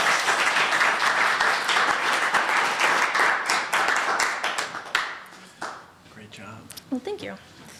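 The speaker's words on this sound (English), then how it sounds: "A round of applause for the folks from home." Applause from a lecture audience at an Olmsted Society talk on exotic species and native trees, a dense steady clapping that thins out and fades after about five seconds, with voices speaking as it dies away.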